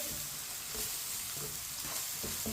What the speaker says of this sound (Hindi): मसालों को मिक्स कर लेंगे